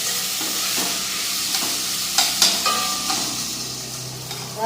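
Potatoes fry in a hot spice tempering, giving a steady close sizzle and hiss, stirred with a few sharp scraping clicks of a utensil against the pan toward the end; no voices.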